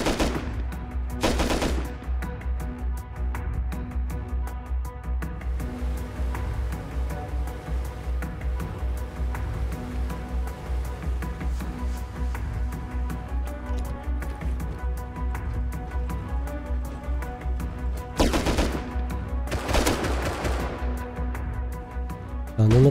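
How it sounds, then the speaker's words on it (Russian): Gunfire in Rust, a steady run of rapid shots through the whole stretch with a few louder bursts near the start and end, and a voice speaking briefly under it. "Уже по мне стреляют."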